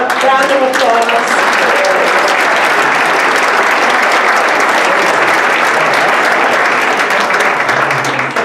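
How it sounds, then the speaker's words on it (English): Guests at a charity gala give staff a loud, steady round of applause that fills the room throughout, with a voice briefly audible at the very start. "Can we give them a round of applause?"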